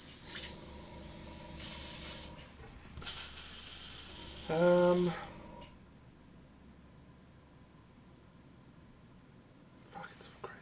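An airbrush sprays paint in hissing bursts, a long steady spray at the start and then shorter pulses, with a faint voice and a quiet room behind it.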